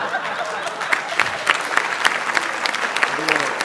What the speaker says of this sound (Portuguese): esse aplauso vai custar caro pra vocês